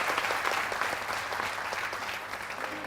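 A studio audience applauds on a television entertainment show, a steady dense wash of clapping that stays loud and even throughout with no voices over it.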